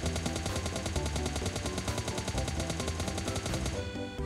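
Rapid automatic gunfire from a weapon in a shooting video game, fired no-scope, rattles in a steady, dense stream of close, loud shots that runs nearly the whole time before cutting off near the end.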